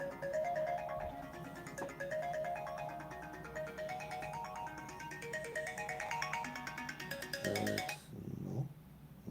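A mobile phone rings with a repeating electronic ringtone melody that plays steadily for about eight seconds and then stops, leaving faint handling noise.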